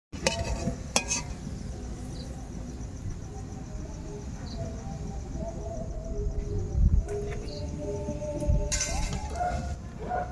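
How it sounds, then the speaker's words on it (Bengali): Malpua batter frying in hot oil, a steady soft bubbling sizzle across the whole stretch with a few clinks of a spoon or pan, moderately close and no voices. "এইভাবে আমি বাকি পিঠেগুলো ভেজে নেব।"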